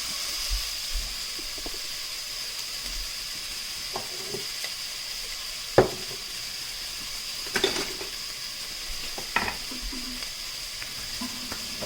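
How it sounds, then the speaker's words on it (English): Garlic cooks in a pot for birria alongside seared meat and onions, giving a faint, steady sizzle with a constant hiss and a few sharp clinks of a utensil against the pot. "I'm just going to cook that garlic in there for a minute"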